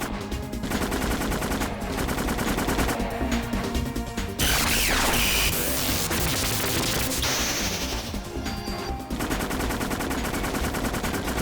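Rapid gunfire from the Parasite Eve video game, sustained bursts of shots rattling continuously and loudly with a crashing burst midway, no voice over it.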